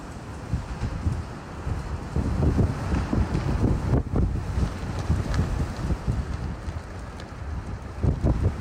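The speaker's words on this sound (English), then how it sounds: "Never seen wind like this before." Strong wind on the way to Akureyri, Iceland, roaring straight into the microphone in heavy low buffeting gusts that barely let up, loud and close throughout.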